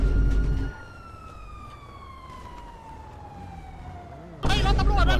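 A police car siren wails in a video game, a long gliding tone sweeping slowly downward and steady under game noise, with louder speech-like sound breaking in at the start and end.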